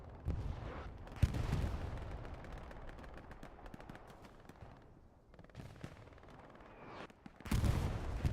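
Machine gun fire crackles in bursts across a Hell Let Loose battlefield, with rapid overlapping rattles and distant gunshots. It swells loud at the start, thins out in the middle and surges again close and heavy near the end, with no speech.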